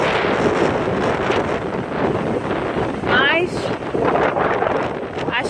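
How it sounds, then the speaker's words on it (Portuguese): Strong gusts during Hurricane Matthew roar and buffet the microphone nonstop, a loud rushing blast near a lake with fallen tree branches, while a person talks beneath the wind. "olha como é que tá o vento"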